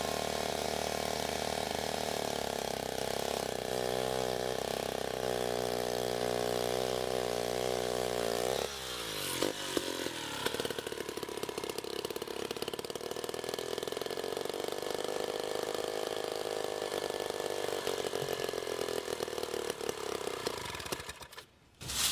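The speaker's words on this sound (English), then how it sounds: "I just wanted to demonstrate how the saw is supposed to be used for undercutting wood" A 1957 Wright model G218 saw idles in a steady mid-pitched engine drone, then revs and bites into wood for an undercut, the rough cutting roar continuing at an even level until a sudden stop near the end.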